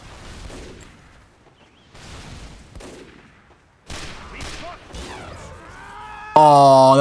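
Sniper rifle shots and gunfire in the video game Team Fortress 2, several sharp cracks spaced over a few seconds, ending in a loud tonal game sound.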